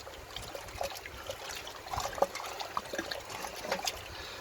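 Hops being stirred into hot wort while brewing an IPA clone, making a gentle swirling trickle of liquid with small splashes, close and moderately quiet, without speech.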